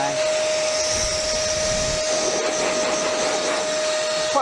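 An Einhell Classic TC VC1930S 30-litre 1500-watt wet and dry vacuum runs in blow mode, a steady close airy whoosh with a constant motor whine, moderately loud and continuous throughout.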